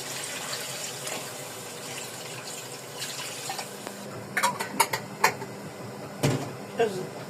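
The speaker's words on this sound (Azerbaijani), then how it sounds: "Dağ su tökdüm ki, qaynasın" Hot water runs and pours into a cooking pot with a steady splashing flow, followed by several sharp clanks and knocks of cookware.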